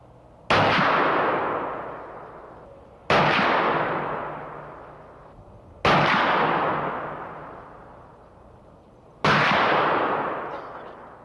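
Four loud, booming gunshots from an inline muzzleloader rifle, spaced a few seconds apart, each a sharp blast trailing into a long echoing rumble outdoors.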